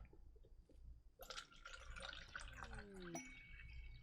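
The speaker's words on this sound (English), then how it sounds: "You're gonna hear some water pour." Bottled water pours into a cup, a rising gurgling fill heard close over low background noise for a few seconds.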